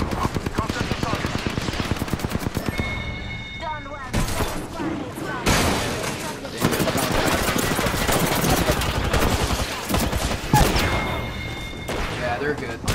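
Rapid automatic gunfire during an Apex Legends firefight, with long fast bursts of shots, sharp cracks and impacts, loud and close, broken by short pauses as the shooting continues.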